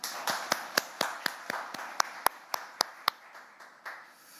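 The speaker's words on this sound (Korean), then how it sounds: "그동안 고생하신 여러분께 서로 박수 한번 크게 치면서 시작하시죠." Scattered hand claps in a quiet room at a Korean National Assembly speaker's press gathering, about a dozen sharp, separate claps in an uneven rhythm with no voices.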